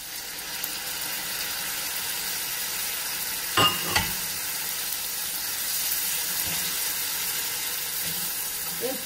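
Tomato goes into a hot pan of sizzling peppers, giving a steady frying hiss with a sharp burst of crackle and a few clinks from stirring, close and continuous, no talking.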